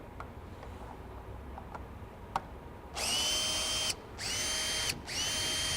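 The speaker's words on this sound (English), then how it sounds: "let's make sure I got my drill going backwards." A power drill running in reverse to back out screws in a fleet services shop: a few faint clicks, then three loud, close whirring bursts of about a second each with brief pauses between them.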